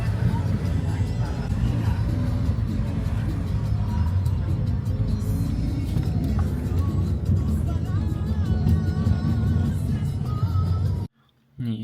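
Busy, chaotic street traffic in Bolivia, a dense close rumble of cars and buses with engine drone and passing vehicles, someone talking over it throughout before it cuts out abruptly near the end.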